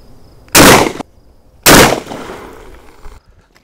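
Two loud, sharp gunshots from a Remington R1 pistol firing heavy 230 grain .45 ACP rounds crack out on an outdoor shooting range, about a second apart, each with a short decaying echo.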